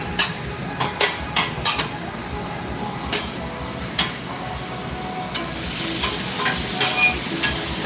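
Angus beef sizzling steadily on a taco stand's griddle, with sharp metal spatula scrapes and clacks as it is stirred and chopped, the frying hiss swelling louder toward the end.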